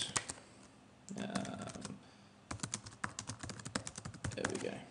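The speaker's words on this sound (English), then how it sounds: "Type in my post, my information." Keys on a computer keyboard clatter in quick irregular bursts while a post is typed, with brief pauses between runs of keystrokes; the clicks are close and moderately loud.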